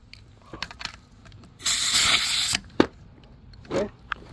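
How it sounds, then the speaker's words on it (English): Compressed air from an air injection cleaning tool blasts in one loud hissing burst lasting about a second while detailing a 2016 Nissan Armada, with shorter puffs and clicks around it. "now we're gonna hook up our air injection deal."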